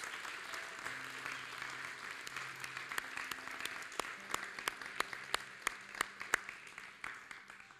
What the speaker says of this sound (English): Can we give our families a big round of applause?